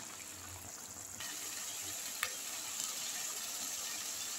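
Fried onions and tomato sauce sizzle in a pan with a steady, moderately loud hiss, a brief utensil tick midway.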